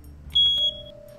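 A single bright electronic beep, a short high tone followed by a lower sustained tone, over quiet background hum.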